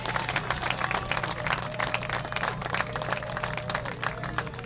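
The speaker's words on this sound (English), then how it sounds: "How about a round of applause for our graduating 4th-year seniors?" A crowd at a college men's lacrosse game applauds graduating fourth-year seniors, with dense, steady clapping that carries on evenly throughout at a moderate distance.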